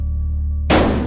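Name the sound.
shotgun shot in a video game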